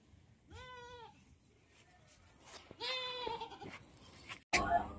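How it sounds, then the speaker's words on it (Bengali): A mother goat bleats loudly in several quavering calls close by, with some rustling and a sharp knock near the end. "বড় ছাগলটা, মানে এই ছাগলের বাচ্চার মাটা অত শেয়ানা, আমাকে দেখে মানে এত জোরে জোরে ডাকতেছে"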